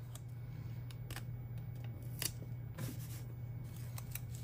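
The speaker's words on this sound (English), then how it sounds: "I'm gonna cut the edge just a little bit" Scissors snip the edges of small paper packages at a planner desk, a series of quiet, crisp cuts spaced unevenly over a soft background hum.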